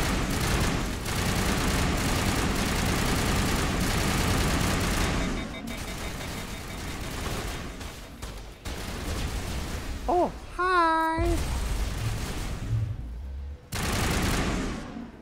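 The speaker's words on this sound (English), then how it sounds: "This gun is so loud." Heavy gunfire from a loud weapon in Mass Effect Legendary Edition, dense continuous volleys with booming impacts, broken by short pauses and a brief rising electronic tone in the middle.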